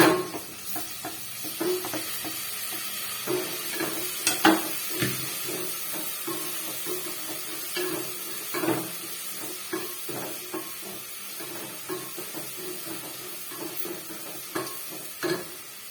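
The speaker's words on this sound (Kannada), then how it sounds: "ಕರ್ಬೇವಿನ ಸೊಪ್ಪು ಹಾಕೋತಾ ಇದ್ದೀನಿ ಇವಾಗ." Curry leaves crackle and sizzle in hot oil while being stirred for rava upma, a moderate hiss broken by sharp pops and occasional clinks of a spoon against the pan.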